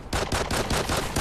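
Rapid shotgun blasts in the first-person shooter Call of Duty: Ghosts, about six loud booming shots in a steady rhythm, each with a sharp attack and short decay, filling the moment with no talk.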